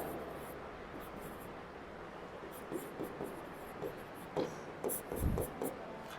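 Chalk or marker strokes on a board during a class 11 biology lecture on the cell, a series of short scratchy taps and scrapes grouped in bursts, near and fairly quiet over a low room hum, no talking.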